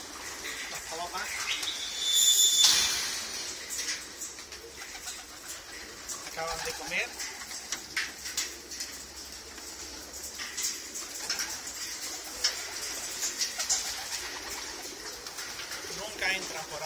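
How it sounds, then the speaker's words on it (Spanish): Racing pigeons at a loft coo and shuffle nearby, with soft wing flutters and calls throughout, while someone speaks in Spanish over them. "las palomas."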